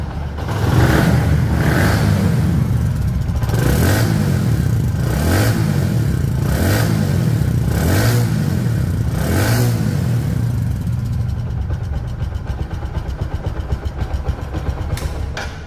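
Bajaj Platina 110 cc motorcycle engine runs close by with a steady, smooth mid-pitched hum, broken by a series of evenly spaced throttle surges, before settling toward idle.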